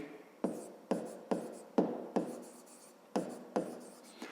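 A pen writes out a math solution on paper, a close and quiet scratching in short strokes, each beginning with a sharp tap and trailing off, repeated about nine times.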